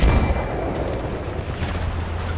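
Heavy gunfire in the video game Battlefield Bad Company 2, a dense, continuous barrage of loud overlapping shots and booming blasts filling the whole stretch.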